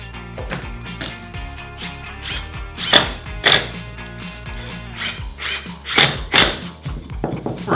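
Fastening a wooden DIY tool caddy with self-tapping wood screws, heard as loud, close bursts of screw-driving and wood rasping that come in uneven pulses with short gaps, with no talking.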